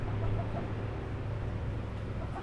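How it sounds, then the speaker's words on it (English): Chickens cluck softly nearby over a steady low hum, a few faint calls rising through the background. "Our chickens during the day are able to come and go."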